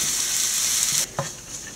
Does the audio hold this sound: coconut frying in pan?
yes